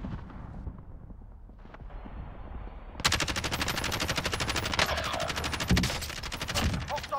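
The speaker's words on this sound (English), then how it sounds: "Doing some long range shooting here, I am," Rapid sustained automatic gunfire from a Kilo rifle during long range shooting in Call of Duty Warzone, a dense steady rattle of shots that bursts in loud after a quieter stretch and continues to the end.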